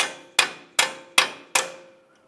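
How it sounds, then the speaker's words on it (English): Four sharp metallic hammer blows on a punch, evenly spaced about 0.4 seconds apart, each ringing briefly, as a 1995–2001 Ford Explorer 4WD front axle is knocked free from its wheel bearing. "Continue on with a hammer and punch."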